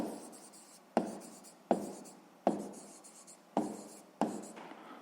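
A pen or pencil writing a sum by hand during a sixth-grade maths exercise, heard as six or so sharp taps, each followed by a scratchy stroke across the paper, close and clear with no talking.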